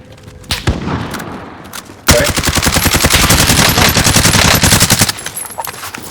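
Sustained automatic gunfire in Call of Duty: Warzone, a loud, rapid stream of close shots lasting about three seconds, preceded by scattered quieter shots and followed by calmer game ambience.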